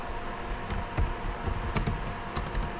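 Router configuration commands typed on a computer keyboard while setting up RIP dynamic routing: a steady run of close, crisp keystrokes with a few sharper key hits and no speech.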